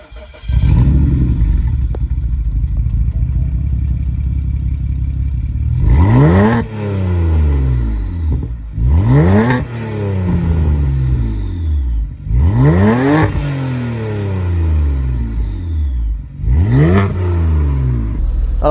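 A Stage 3 BMW 335i E92 idles and then revs hard several times in quick bursts, each rising and falling sharply, loud and close with no talk.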